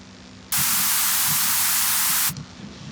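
A white noise sample called VMH2 noise mid is played in FL Studio: a sudden, loud, flat burst of bright hiss lasting just under two seconds that cuts in and off abruptly over a faint low hum.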